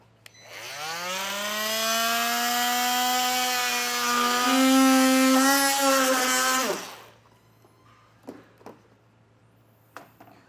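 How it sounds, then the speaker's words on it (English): An oscillating multi-tool cuts through a panel on a 2024 Honda Odyssey while a trailer hitch receiver is being fitted, producing a loud, steady buzzing whine of about six seconds that stops abruptly and is followed by a few light clicks. "I like to use a multi-tool or oscillating tool. It gives you a nice clean cut."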